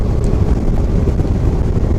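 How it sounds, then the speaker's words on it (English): Wind buffets a microphone during an outdoor ride at Red Rocks, a constant low rumbling roar with gusty fluctuations and no voices. "little windy whistle."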